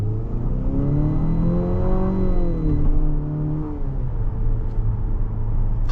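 A 2027 Infiniti QX65 Sport's four-cylinder engine accelerates with a steady drone that climbs in pitch, eases back, then continues beneath a constant road rumble from inside the cabin, with no talk.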